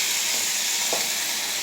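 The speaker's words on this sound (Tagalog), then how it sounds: "Kailangan ganun ang tunog na maririnig mo na sobrang gisa talaga siya." Steady loud sizzling of rice sautéing in a hot pan for Egyptian rice, a continuous bright hiss with a faint stir or scrape near the middle.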